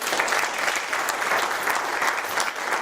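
A church congregation applauds together, a dense, continuous clatter of many hands clapping at steady volume, with little else audible.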